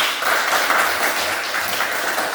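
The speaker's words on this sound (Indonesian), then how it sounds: "Berikan aplaus bagi kelompok 1." A group claps for classmates after their presentation in a classroom, with steady applause of many hands lasting a couple of seconds at moderate loudness and no talk over it.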